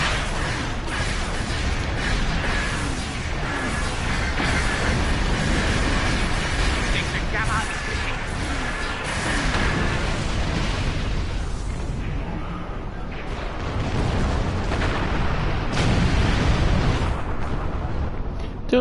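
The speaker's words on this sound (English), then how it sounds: "Do you like the new explosions?" Explosions in the Star Trek Online video game, rumbling booms and bursts layered through dense combat noise, with voices talking over much of it.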